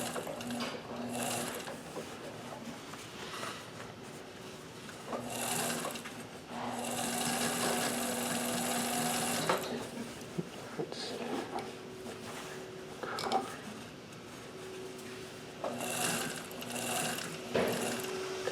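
A sewing machine stitches over a jeans pocket in several close, whirring bursts with mechanical clicks and pauses between runs, and a person talks at times.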